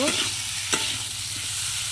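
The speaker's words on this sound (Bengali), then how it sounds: "ভালো করে আলুটা কষিয়ে নেব" Potato pieces with salt, chilli powder and turmeric sizzle in a pan while being stirred, with a couple of sharp scraping strokes over a steady low frying hiss and no talk.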